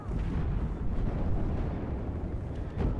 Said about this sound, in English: Damn, that explosion though rocked my screen.